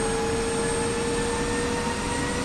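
A jet engine spools up during startup in the DCS flight simulator game, a steady loud whine and roar with constant high tones and a broad rushing hiss, no talking.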